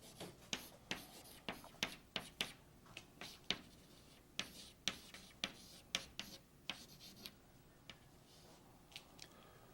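Equations written by hand with pen on paper for a calculus lesson on natural logarithms, a steady run of close, crisp scratching strokes and taps with short pauses between them, no talking.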